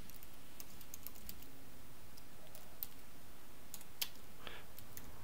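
Computer keyboard typing while coding in Python: a few faint, sparse key clicks scattered over a quiet background hiss, with no steady typing rhythm.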